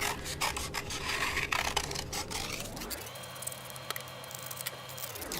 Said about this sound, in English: I'm still gonna use the scissors this time.